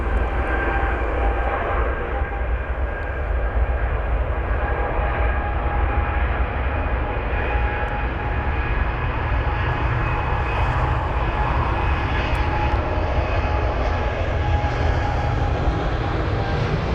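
Jet airliner engines at London Heathrow, with an Air Canada jet lined up to depart, hold a loud, unbroken roar with a steady whine running through it for the whole stretch.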